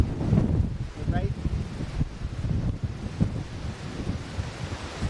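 Strong gusts from Hurricane Gert batter the microphone outdoors in South Gloucestershire, a loud rumbling buffet that surges and eases over a few seconds, with indistinct voices in the mix.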